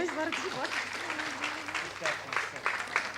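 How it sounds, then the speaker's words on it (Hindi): Audience at an offline matrimonial meet convention in Abu Road, Rajasthan clapping steadily throughout, with voices talking over the applause. "एक बार जोरदार तालियां बजाएं"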